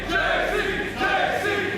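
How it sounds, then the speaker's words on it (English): A wrestling arena crowd chants for JC Westerfield, a massed rhythmic group of voices rising and falling in two pulses, loud and close. "there's a contingent chanting for him"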